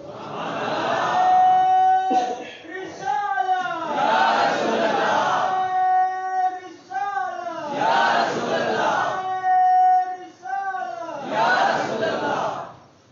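A large crowd shouts religious slogans in loud unison at a meelad gathering, in repeated rhythmic bursts, with a single lead voice calling between the chants.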